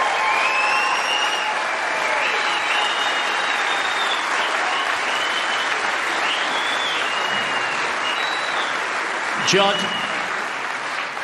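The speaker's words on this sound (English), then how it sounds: "may we have another round of applause for two truly world-class players" Sustained applause from a snooker audience at the Champion of Champions final between Judd Trump and Mark Allen, loud and steady throughout while a presenter speaks over it.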